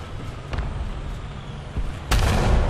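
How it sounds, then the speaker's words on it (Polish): Tank cannon fire in War Thunder: a muffled boom, then after a pause a second, louder blast whose heavy rumble rolls on to the end, with no voices. "Proszę, następny strzał."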